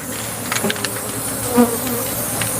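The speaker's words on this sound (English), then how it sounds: "I'm going to knock down a bunch of bees in the windows in here" Steady honey bee buzzing hums throughout, with a few brief louder passes close by, as bees drone near indoor windows.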